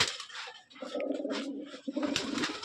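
Machranga baji pigeons coo softly and repeatedly at close range, low throaty calls rising and falling in short phrases with brief pauses between them.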